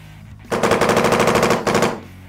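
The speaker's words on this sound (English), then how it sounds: "A clean trigger equals a faster shot." A paintball marker firing a rapid string of shots, about a dozen close, loud pops in a quick even rhythm, a brief break, then a few more shots.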